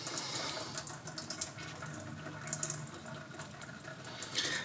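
Engine oil drains from a 5th-gen Ram 2500 6.7 liter truck, pouring in a steady close liquid stream with splattering as it lands on the drive shaft.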